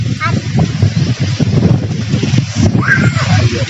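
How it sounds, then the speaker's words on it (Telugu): Wind gusts buffet the microphone with a low, steady rumble while a person talks over it. "ఫుల్ ఒక్కసారి గాలి వస్తుంది"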